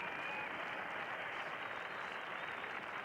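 Applause from a boxing crowd inside the Fargodome during a scheduled 10-round bout: dense, steady clapping and crowd noise held at an even level throughout, with no clear voices rising above it.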